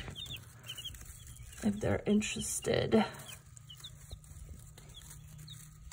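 Chickens clucking softly around a new feeder or treat setup, with short bursts of clucks in the middle and a person speaking briefly nearby.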